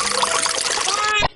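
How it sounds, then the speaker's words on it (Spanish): Water is poured onto dry soil for a preschool planting lesson, a steady close trickle and splash that stops abruptly near the end, with children's voices around it. "Está como seca la tierra, ¿qué hay que echarle? Agua."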